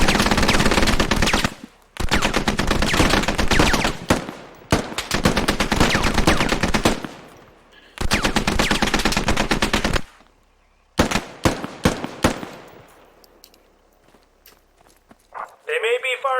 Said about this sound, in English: They may be firing rubber bullets, but they hurt.